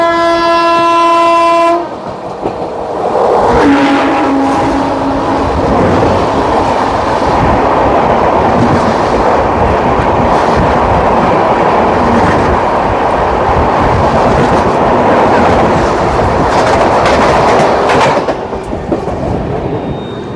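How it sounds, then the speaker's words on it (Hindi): An express train passes close by at a crossing near Sarai Bhopat, opening with a loud horn blast, then a long roaring rush of wheels and carriages that fades near the end. "सराय भोपट पे कोई ट्रेन आ रही है, क्रॉसिंग हो रही है हमारी"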